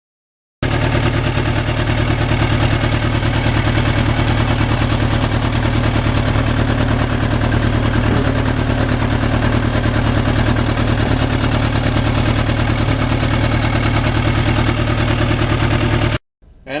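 A 1991 Yamaha FZR 1000 motorcycle engine runs steadily and loud up close, a continuous rumbling idle with no talk, then cuts off abruptly near the end.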